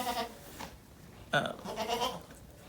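Goats bleat in a snowy farmyard during evening feeding, two or three wavering cries spaced across a couple of seconds, close and moderately loud with no talk.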